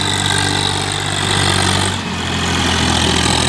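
A Sonalika DI 50 tractor engine labours steadily up a slope, a loud continuous diesel drone with a brief dip midway before it resumes at full strength.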